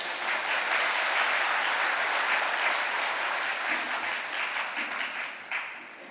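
A Catholic congregation at a retreat claps with hands raised, a broad, continuous wash of applause from a large crowd that holds steady and then eases slightly near the end.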